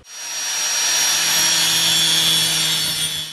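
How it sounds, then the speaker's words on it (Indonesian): Angle grinder cutting through speaker box material, a sustained high, harsh whine with a grinding rasp that swells in quickly and holds steady, close and loud, with no talking. "selanjutnya tinggal dipotong pakai gerinda"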